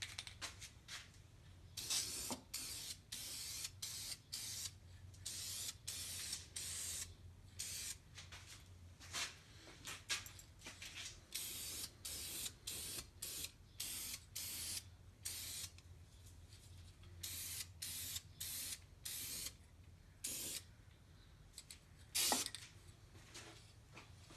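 Short, light bursts of spray paint misting base coat onto wheel rims, a steady run of brief hissing passes repeated across the clip, close and moderately loud with no talking.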